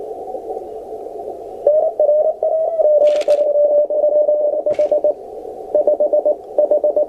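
A steady mid-pitched radio tone hums over a noisy receiver hiss, with a couple of brief bursts of static and short dropouts near the end.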